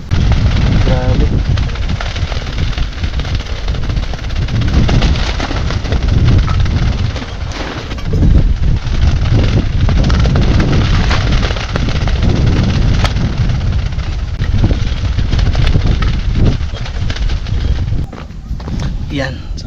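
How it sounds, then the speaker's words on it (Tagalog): Strong wind blowing at a hillside campsite in Tanay, Rizal, a constant loud roaring rumble buffeting the microphone throughout, with someone speaking over it. "so ang lakas ng hangin"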